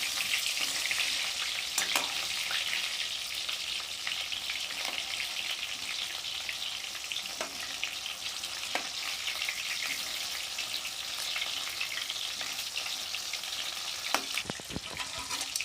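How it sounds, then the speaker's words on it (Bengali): Chicken pieces for chilli chicken frying in oil make a continuous, even sizzle close by, with occasional louder spits and crackles scattered through and no talking. "চিকেনগুলোকে একটু লাল লাল করে ভাজতে হবে।"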